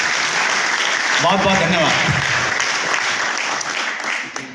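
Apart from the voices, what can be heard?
audience applause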